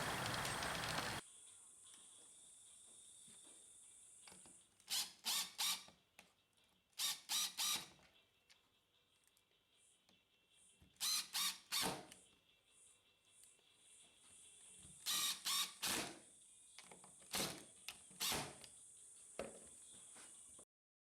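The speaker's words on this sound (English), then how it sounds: "And now I'm fitting the toggle clamps using wood screws." A drill driving wood screws to fit toggle clamps onto a wooden shaper jig, heard as several short, close bursts of whirring separated by pauses, with no talking.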